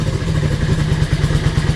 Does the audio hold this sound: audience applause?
no